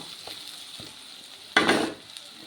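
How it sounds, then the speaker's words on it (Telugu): Onions fry with turmeric in a pan, a quiet sizzle underneath with a few light stirring scrapes, then a louder burst of hissing and scraping near the end. "అలా కుక్ అయిన తర్వాత కొంచెం పసుపు వేసుకుని ఒక్క 1 మినిట్ ఫ్రై చేసుకోండి."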